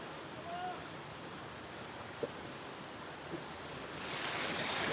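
A village stream swollen with rainwater flows full, a steady broad wash of moving water with wind buffeting the microphone, a couple of faint knocks, and the rush swelling near the end.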